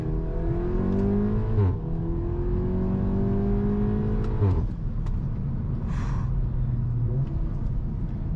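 Volkswagen Golf R with an upgraded tune accelerating hard, its engine note climbing steadily through the gears with brief dips at each shift, loud and close with a constant rumbling undertone.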